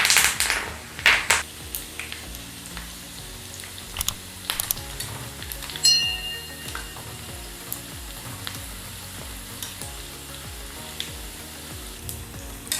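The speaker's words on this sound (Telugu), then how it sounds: "ఇందులో అలానే కొద్దిగా పచ్చి కరివేపాకును కూడా యాడ్ చేసుకొని ఫ్రై చేసుకుంటే బాగుంటుంది." Leftover-rice pakodi with a little fresh curry leaf frying in hot oil, a continuous crisp sizzle and crackle close by, with scattered sharp pops and light utensil taps, no talking.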